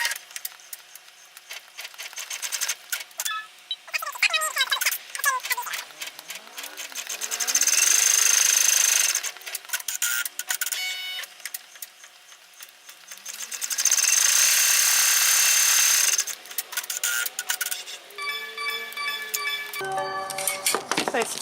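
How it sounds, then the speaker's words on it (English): An embroidery machine with a 5x7 hoop stitching placement lines onto stabilizer, giving a rapid, rhythmic mechanical chatter that runs in stretches with whirring pauses and brief changes in pitch, close by and clear, with a voice talking at times. "the first thing I'm going to do is stitch out step 1 and 2"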